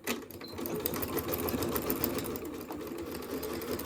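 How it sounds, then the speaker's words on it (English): Sewing machine running a steady quarter-inch stitch on a satin bow tie, with a continuous close, fast mechanical whir throughout and no talking. "So I've got my thread loaded onto my machine. And I am just going to do like a 1/4 inch stitch."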